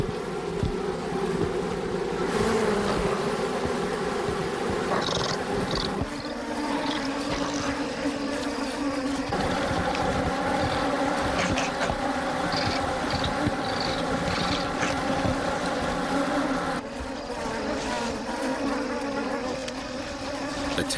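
Swarm of angry stinging African bees buzzing densely and continuously during a honey badger's raid on their hive, loud and close throughout.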